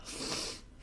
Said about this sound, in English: Oh shoot, I'm gonna sneeze.